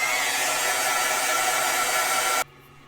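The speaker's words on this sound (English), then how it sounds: "I'm going to use my heat embossing tool just to set the ink" A heat embossing tool blows a steady, loud, hissing rush of hot air to set ink on a craft project, then cuts off abruptly near the end, leaving near silence; no one speaks.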